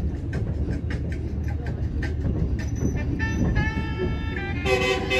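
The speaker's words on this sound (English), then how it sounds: "that honking sign, honking noise" A Camrail train horn in Cameroon blares with tonal honks near the end over rumbling rail noise and clacking wheels, with some faint background voices.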